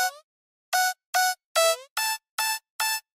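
Seven short, bright synthetic hits sound in a steady rhythm with silence between them, a tonal electronic percussion sample from a riddim dubstep track played alone.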